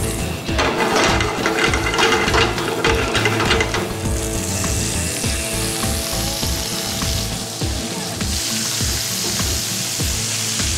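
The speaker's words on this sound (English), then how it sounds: "Hot pan. Olive oil. Test the oil first with a little flake of garlic. Oil's ready, lovely. Chili in." Garlic and chili sizzle loudly in hot olive oil in a pan for garlic prawns, a steady dense crackle with some stirring and clinks throughout, the hiss rising brighter partway through, with no talk.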